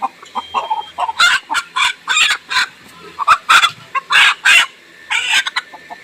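Chickens squawk and cluck loudly in frantic bursts close by as they are caught, with scuffling and flapping between the cries.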